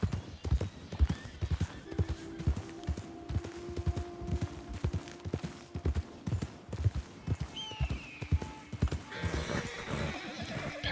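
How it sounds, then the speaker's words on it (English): Horse hooves clip-clop steadily in Red Dead Redemption 2 out on open pasture, a regular rhythmic gait near and clear, with a brief whinny and someone talking faintly at times. "she must not like being around wild horses"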